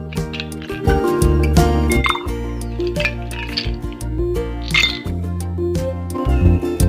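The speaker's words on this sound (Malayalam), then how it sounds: "ഐസ് ക്യൂബ്സ് ഇട്ട് കൊടുക്കാം." Ice cubes clink and clatter into a glass of lemon-juice drink in a quick series of bright knocks, with a low hum running underneath throughout.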